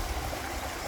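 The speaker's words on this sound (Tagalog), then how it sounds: "Pakinggan niyo ha yung ng tubig, agos ng tubig." Mountain stream water flows steadily in a broad, even rush, moderately loud and unbroken for about a second.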